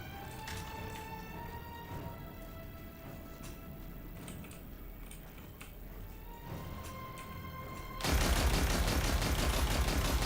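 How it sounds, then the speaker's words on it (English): Heavy machine gun fire in Destiny 2 erupts loud and sustained for the last couple of seconds, a dense rapid burst after a stretch of layered game music and ambient effects. "I need to switch my heavy machine gun"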